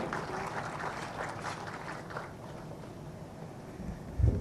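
Audience applause at a matric results ceremony, a diffuse wash of many hands clapping at a moderate, steady level, swelling slightly near the end.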